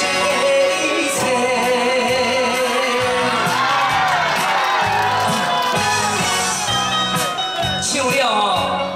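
A live crowd cheers and shouts at a performance, with loud, sustained whoops and voices that carry on the whole way through, mixed with music.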